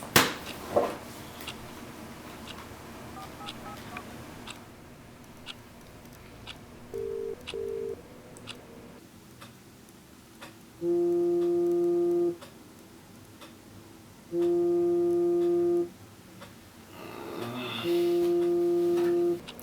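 An outgoing telephone call ringing unanswered, starting with a few short dial tones and followed by three long steady ring tones separated by pauses, clear and close, with faint room noise and no talk.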